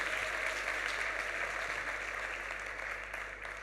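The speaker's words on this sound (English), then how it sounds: "I think that does deserve a round of applause." Conference audience at the Plan ₿ Forum in Lugano applauding in a large hall, a dense, continuous wash of clapping heard from a distance that slowly fades toward the end.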